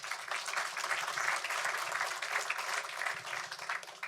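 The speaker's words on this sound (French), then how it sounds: "On peut vous applaudir." Audience applause at a round-table session of a regional building-materials reuse conference, a steady dense patter of clapping sustained for several seconds with no talk over it.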